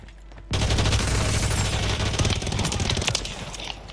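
Dense, rapid gunfire from the video game Fortnite erupts suddenly and loudly after a brief quiet start, then keeps going as a steady barrage of overlapping shots close up.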